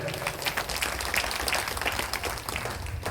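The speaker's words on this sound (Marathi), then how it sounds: "जोरदार टाळ्या झाल्या पाहिजे" Audience applause at a village Ramayana recitation event, a dense, steady wash of clapping from a crowd sustained through the whole moment without pause.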